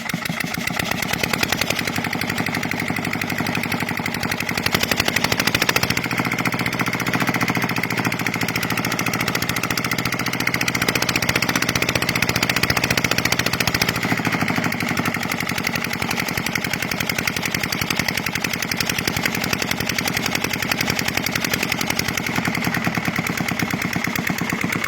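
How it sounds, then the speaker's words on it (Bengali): A machine engine starting again and running, a loud steady mechanical drone with a rapid rattling pulse that holds evenly throughout, no talking. "আবারও মেশিন চালু হচ্ছে"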